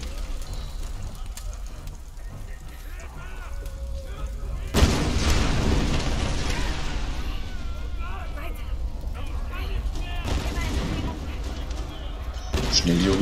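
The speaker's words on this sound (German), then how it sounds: "Niemals bei solchen Explosionen in einem Haus rennen." Explosions in the video game Tomb Raider: a sudden heavy boom hits partway through, followed by a loud, sustained rumble of blasts and crackling debris that stays dense to the end.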